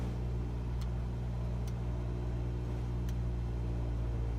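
A simulated Cessna 172 engine in Microsoft Flight Simulator 2020 holds a steady 1800 RPM run-up, a constant loud, droning hum with low harmonics and a few faint clicks above it.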